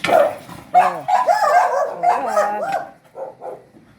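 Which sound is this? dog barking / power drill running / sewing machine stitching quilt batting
dog barking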